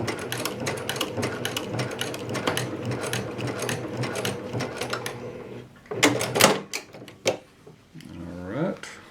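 A sewing machine runs in a steady, rapid stitching burst while a pocket seam is sewn on pants, then stops, followed by a few mechanical clicks and handling noises, with a voice speaking near the end.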